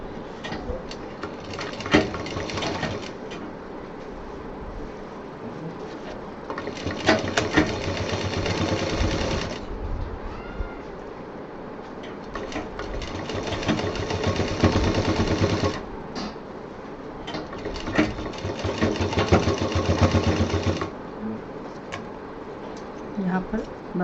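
A sewing machine stitches a fabric bottle case in several fast, rattling bursts separated by short pauses, close and fairly loud.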